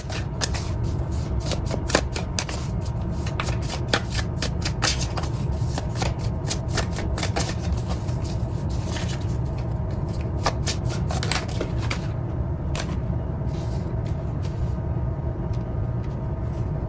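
Tarot cards shuffled steadily for a psychic reading, a dense run of papery riffles and flicks, close and continuous, with a low rumble of background noise underneath.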